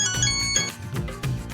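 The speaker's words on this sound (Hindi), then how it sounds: "जोजी बेगम के फोन पर सिद्दीकी क्यों फोन कर रहा है?" A phone rings with an incoming call in a Pakistani sitcom scene, a loud, close electronic ringtone with repeating melodic tones that fills the whole short stretch without talk.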